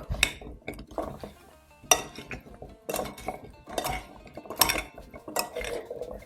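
Spoon clinks and scrapes against a bowl while poultry seasoning and garlic are mixed together for a Thanksgiving turkey, in a steady run of close, uneven metallic taps and stirs.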